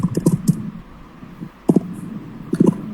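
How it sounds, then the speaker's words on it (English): Slow typing on a computer keyboard, close and distinct: a few quick clusters of clicks separated by pauses, with no voices. "So anyhow I'm typing slowly, right?"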